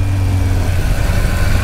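A motorcycle engine idles steadily while warming up, a low, even rumble held close and constant throughout the short stretch.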